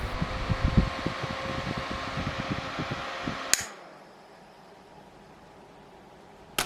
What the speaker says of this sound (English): Now we will connect our wiring to our fan